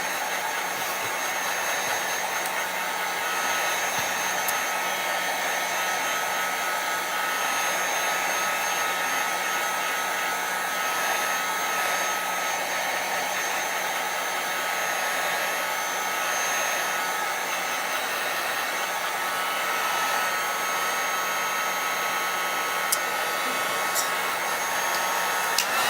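Hair dryer blowing steadily on wet chalk paste laid on a craft surface, a continuous airy whir that holds an even level throughout with no talking.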